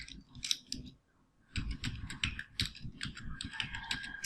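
Someone types on a computer keyboard in quick bursts of soft clicks, with a short pause between runs of keystrokes.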